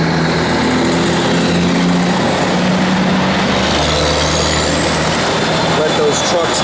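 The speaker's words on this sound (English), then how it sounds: "let those trucks pass so you can hear me." Heavy trucks rumble loudly past nearby, engines droning and roaring with a rising whine as they go by, dense and continuous.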